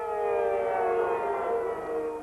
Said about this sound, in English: the daunting sound of air raid sirens amid fears of Iraqi retaliation